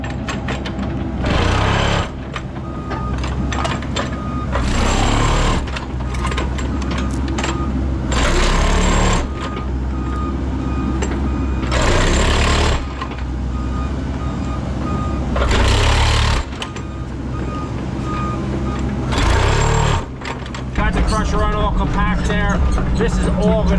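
Truck reversing on a construction site for yard drainage work, with a rhythmic series of loud beeps in regular bursts over a steady engine rumble.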